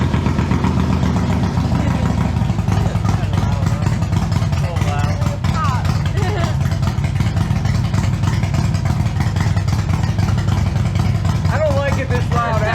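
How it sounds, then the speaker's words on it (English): A loud motorcycle engine fitted with a racing cam idles steadily and close by, a deep, rough, continuous rumble throughout with faint voices underneath. "I just put a cam, it's a racing cam in the engine. That's why it's so loud."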